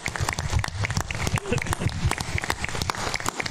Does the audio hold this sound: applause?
yes